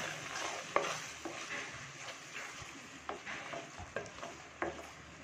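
Coconut paste for ridge gourd kootu frying and being stirred in a pan, a soft steady sizzle broken by light scraping stirs at irregular intervals, close and moderately quiet with no voices.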